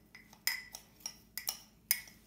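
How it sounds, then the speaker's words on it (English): A metal spoon clinks and scrapes against a bowl while stirring crushed Doritos into homemade mac and cheese, giving about seven sharp, close taps in an uneven rhythm with no talking. "get the spoon that you used to crush the Doritos and to sort of mix it up with the Doritos"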